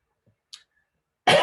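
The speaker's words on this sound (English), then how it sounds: "sorry about the cough that you'll hear for the rest of today" A single sharp, loud cough bursts out close to the microphone at the end, after near silence broken by a few faint small sounds.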